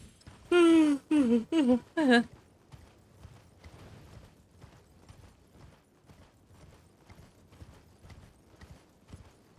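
A short burst of loud, tonal vocal sounds at the start, then a steady series of soft hollow hoof clops of a video game horse at walking pace, quiet and regular.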